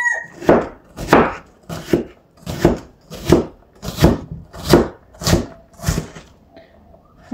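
A knife chops food on a board with about ten evenly spaced, close, crisp strokes in a steady rhythm, and nobody talks over them.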